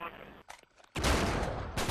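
Gunfire from the video game Uncharted 3 arrives as a sudden loud burst of rapid shots that carries on through the rest of the moment, after a brief stretch of quieter sounds and a voice.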